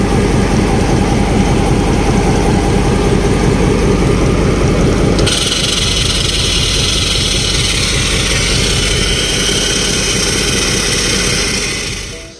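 Diesel locomotive engine running steadily and loudly close by, with a sudden shift in its texture midway as the main air reservoir is drained of moisture, then fading at the end; no voices.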